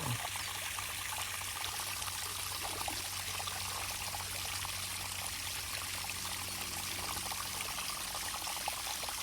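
Water pours steadily out over a small waterfall into a fish pond, a constant close splashing rush with no pauses and no voices.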